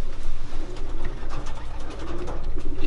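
Racing pigeons cooing softly in a loft, low rolling coos repeating over a continuous rustling, busy background, with no voices.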